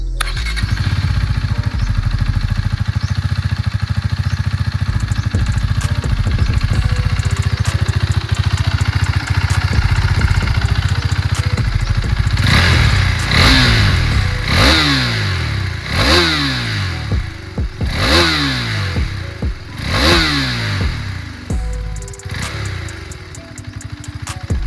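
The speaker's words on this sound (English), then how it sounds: "let's listen to the exhaust note of the new exhaust on the RC390" A KTM RC 390 motorcycle with a new exhaust idles steadily, then is revved hard several times in a row, each rev rising and falling with a deep, loud exhaust burble.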